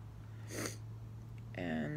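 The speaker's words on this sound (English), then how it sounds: "sorry for the sniffles" A short, breathy sniff followed by a wet, nasal sniffle with a brief voiced catch, close and fairly quiet over a low hum.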